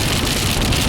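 Steady broadband rain pours down during a severe June thunderstorm, a dense continuous hiss of drops striking surfaces nearby, loud and unbroken with no voices.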